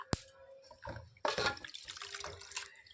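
Sajne (drumstick) flowers are washed and strained from water, giving a short run of close, soft splashes, drips and trickles with a sharp tap near the start.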